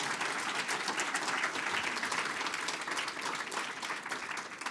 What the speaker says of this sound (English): Please join me in a round of applause for Matt Galloway.